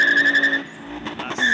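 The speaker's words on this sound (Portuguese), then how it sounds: "Acelerando." A turbocharged car engine revs with a strained whine and tire squeal, dipping briefly before revving up again, close and loud, at a car meet in Curitiba, Brazil.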